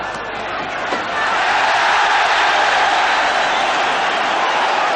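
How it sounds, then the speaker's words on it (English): Boxing arena crowd roaring and cheering at a professional middleweight bout, a loud sustained wall of voices that swells after the first second and holds steady throughout. "bringing this crowd to its feet with excitement from time to time"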